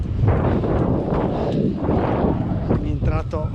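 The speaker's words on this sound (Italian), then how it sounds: "perché c'è tantissimo vento" Strong wind buffets the microphone in heavy, continuous gusts while cycling on the Alpe Adria cycle path in Friuli Venezia Giulia, with a voice briefly audible near the end.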